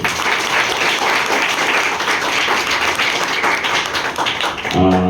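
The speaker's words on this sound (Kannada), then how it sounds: "ಸೊ ಅವ್ರಿಗೂ ಜೋರ ಚಪ್ಪಾಳೆ ಬರಲಿ" A crowd applauding the Rajalanchana organizers at an event honoring teachers, loud dense clapping sustained throughout and ending abruptly near the close.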